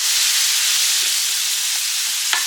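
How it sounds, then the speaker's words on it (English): Smash burger meat broken up and stirred in a pot for a homemade veggie soup with onion: a steady, close frying sizzle and hiss runs throughout, with a few soft scrapes of the spoon. "Get those broke up in there, get them all stirred in."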